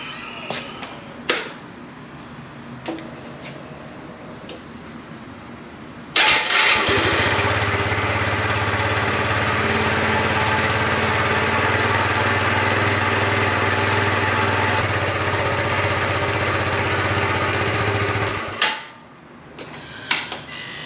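A Kawasaki Z125 motorcycle engine cranks and catches after a few light mechanical clicks, then idles steadily and loudly up close for about twelve seconds before cutting off, following a tune-up.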